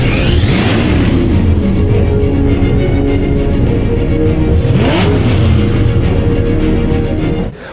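Loud, close police squad car engine revving hard in a Batman: Arkham Knight chase, with rising and falling revs and surges of acceleration over continuous road noise.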